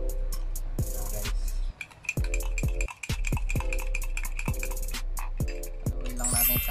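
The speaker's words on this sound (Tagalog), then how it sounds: "haluin lang natin siya hanggang lumapot" A spoon stirs a thickening Milo dalgona mixture in a glass, making close, rhythmic clinks against the side, repeated regularly over a low steady hum.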